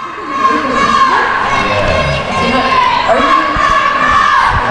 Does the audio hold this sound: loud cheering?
yes